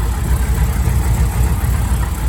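A Dodge Coronet drag car with a 440 engine idles steadily close by, a continuous low rumble with a faint uneven knock and no talking.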